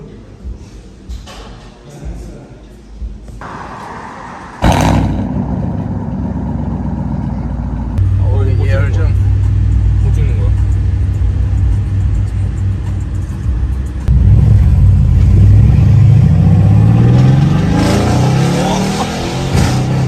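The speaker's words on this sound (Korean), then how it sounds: "출발 전에 악셀링 하는 건가?" A straight-piped performance car with an open exhaust idles with a low rumble, then revs harder in two loud, sustained steps before launch, the deep drone swelling and holding near the end.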